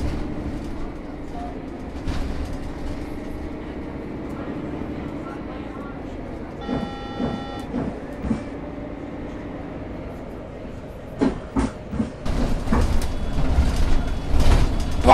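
Mercedes-Benz C2G city bus on line 73 in Aachen, an interior engine drone and road rumble rising and falling, with rattles, a brief door chime and louder knocks near the end, while people talk over it.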